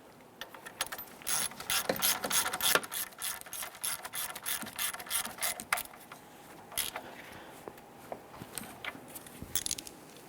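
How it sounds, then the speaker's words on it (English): A ratchet wrench clicks rapidly in quick bursts while tightening the horizontal bolt on the upper mount of a coolant reservoir in a 2008-2013 Nissan Rogue, close up, with brief pauses between strokes. "Let's tighten down the horizontal bolt on the upper mount."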